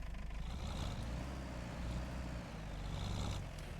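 Tractor engine in Farming Simulator 25 running at a steady low idle, a constant rumbling drone that stays fairly quiet, with no talk over it.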